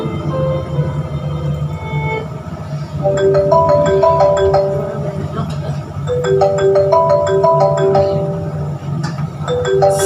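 A phone rings with a son calling during a staged Tamil play, its repeating electronic melody chiming in short bursts over a low background hum and room murmur.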